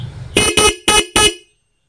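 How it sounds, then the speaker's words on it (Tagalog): A stock car horn honks four times in quick succession, loud and close, each blast short and even, then silence. "so stock horn tayo"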